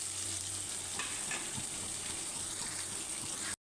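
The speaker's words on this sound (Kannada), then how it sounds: "ಬೆಳ್ಳುಳ್ಳಿ ಸ್ವಲ್ಪ ಕ್ರಿಸ್ಪ್ ಆಗೋ ತನಕ ಫ್ರೈ ಮಾಡ್ಕೊಳ್ಳಿ" Crushed garlic fries in hot tempering oil until crisp, a continuous low hiss and bubbling sizzle close by, steady throughout before cutting off abruptly, no talking.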